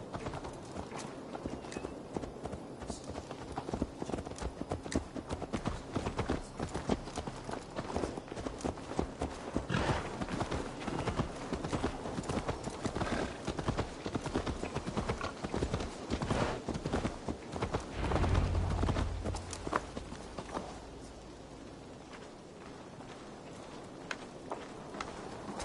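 Horse hooves clip-clop steadily on the ground in Assassin's Creed Valhalla, a continuous walking rhythm of close, moderately loud hoofbeats layered over game ambience and music.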